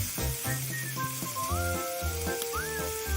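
Mushrooms stir-fry in a pan, giving a steady close sizzle beneath brief background music with sustained tones.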